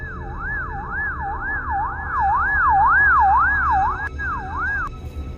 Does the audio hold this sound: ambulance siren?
yes